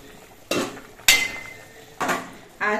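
A metal pan lid comes off a kadai of simmering mustard hilsa curry, making a few sharp clanks and scrapes of metal on metal in separate bursts, close by and fairly loud.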